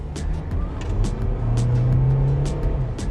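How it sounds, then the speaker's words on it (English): A 2021 Mercedes-Benz GLC Coupé engine revs hard under acceleration in Sport Plus mode, a steady low growl rising in pitch, with sharp intermittent bursts of noise over the drone. "You can hear the grunt of the car."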